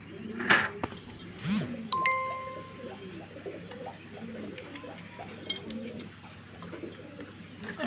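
Black exhibition pigeons coo softly and steadily in a loft among a flock, with a faint bell-like ding and a few brief knocks in the background.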